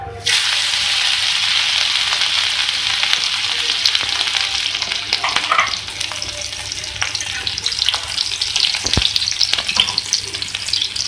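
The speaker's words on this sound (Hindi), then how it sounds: "आपने ऑयल में सबसे पहले कबाब को ऐड करना है।" Beef kebabs frying in oil on a tawa, a loud continuous close sizzle with crackling spatter that carries on steadily throughout, with no talk.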